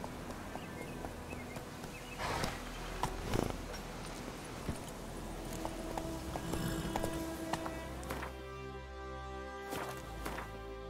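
Horse hooves clip-clop in a steady rhythmic gait during riding in The Witcher 3, moderately close over quiet in-game ambience, with a few heavier thuds.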